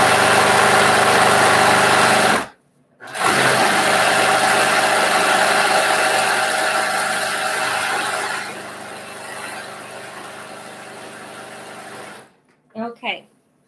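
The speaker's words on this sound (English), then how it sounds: "It's a Brother PQ1500. And the reason I like this machine is because it sews really, really, really fast." A Brother PQ1500 sewing machine runs at high speed with a loud, steady motor whir and needle rattle. It stops briefly near the start, runs on for about nine seconds, then cuts out, followed by a few short clicks.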